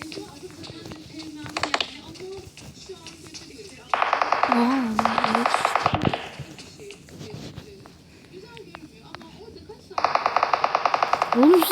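Rapid bursts of automatic gunfire crackle in several loud clusters, separated by shouting voices and talk, with scattered single shots between the volleys.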